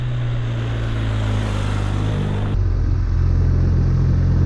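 BMW R1250RT touring motorcycle pulling away and riding, a loud steady engine drone that shifts pitch midway with constant wind and road roar.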